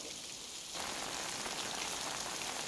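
Steady rain in the video game Death Stranding, a dense even hiss of falling drops that swells louder partway through and continues alone without voices.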